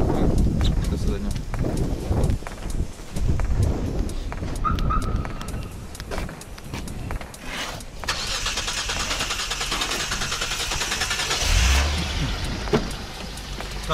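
A Chevrolet Lacetti engine cranks and struggles to catch, then starts and settles into a steady idle close by, with someone speaking irritably over the start.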